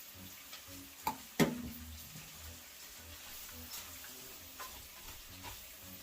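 Water poured into a pan of fish and chicken sets off a sharp burst of hissing, then a low steady sizzle and light scraping follow, faint and close.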